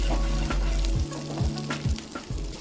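Shallots frying in hot oil in a pan, a steady close sizzle broken by regular scraping strokes as they are stirred.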